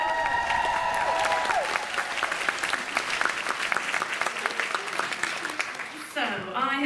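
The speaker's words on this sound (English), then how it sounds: "Another round of applause for Riley Keough." A London book launch audience gives Riley Keough a dense, sustained round of applause, loud and close, with a voice at the start and the clapping tapering off near the end.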